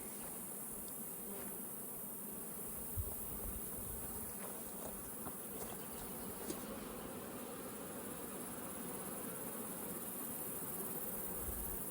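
A steady, dense buzzing of many honeybees fills a production apiary yard during a honey flow, a constant soft hum with a couple of faint knocks, no voices.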